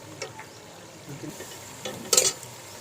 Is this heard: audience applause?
no